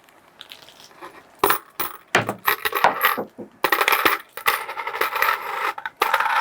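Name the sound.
coins dropped onto a cardboard bridge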